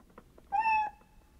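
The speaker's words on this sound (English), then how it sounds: "Kitty cat." A cat gives a single clear meow, rising then held, about a third of a second long and close by, with faint background noise before and after.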